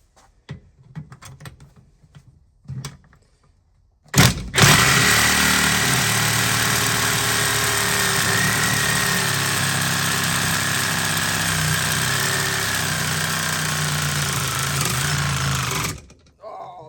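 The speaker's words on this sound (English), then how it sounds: "I'm going to see if I can get some more life out of these pretty cheap Sawzall blades" Cordless Sawzall reciprocating saw fitted with cheap blades cuts steadily for about twelve seconds, loud and close, with a dense buzzing roar that starts abruptly and stops sharply, after faint shop noises.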